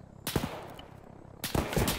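Gunfire in a video game comes in two rapid bursts, each a quick cluster of sharp, loud shots separated by about a second of quieter background.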